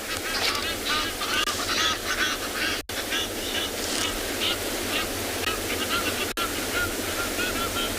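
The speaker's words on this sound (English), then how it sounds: "Another Egyptian geese couple's coming in." Egyptian geese honk loudly as a pair flies in at sunrise over a Kalahari safari reserve, their calls rising over a steady, surf-like wash of background noise.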